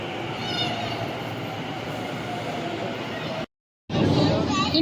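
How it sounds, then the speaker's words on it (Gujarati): A metro train pulls into the station with a steady, loud rumble and hiss filling the platform, briefly cut to silence before the roar resumes. "આપણી ટ્રેન આવી ગઈ છે"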